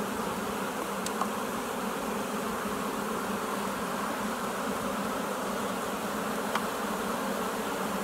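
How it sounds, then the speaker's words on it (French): A honeybee colony hums steadily from an open hive, with no sign of a queen and frames packed with honey and nectar. The buzzing is a dense, continuous drone that holds at an even level throughout, with no talk. "la colonie elle chante pas mal"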